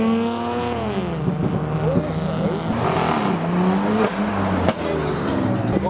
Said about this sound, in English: We've got V8 noises, we've got C63, then the XKR, and then an E55.